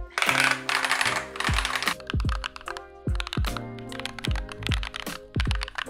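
Rapid, clacky keystrokes on a loud custom-built mechanical keyboard, sharp close-up clicks and thocks in quick bursts with brief pauses between runs.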